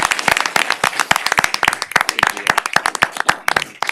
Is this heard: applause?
yes